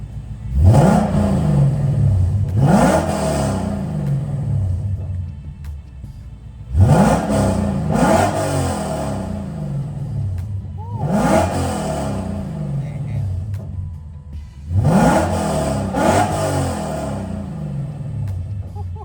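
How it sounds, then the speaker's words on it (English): A Lexus RC F engine with aftermarket headers revs hard four times in loud, snarling bursts, each dropping back to a rough, burbling idle between blips. "It revs really fast too."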